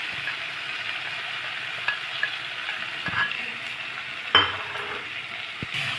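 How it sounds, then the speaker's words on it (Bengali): Spice paste with tomato frying in a pan while being stirred, a steady sizzle broken by occasional clinks and scrapes of a utensil against the pan, close and clear with no talking. "এখন দেখো, মশলাটা ভালোভাবে কষিয়ে নেওয়া হচ্ছে"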